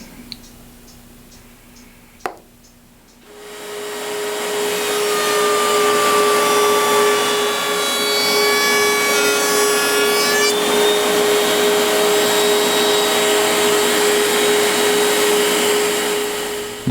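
A router spins up and cuts a groove in wood to hold plywood, a loud sustained whining roar that rises after a click and holds steady, with shifting tones as the bit bites.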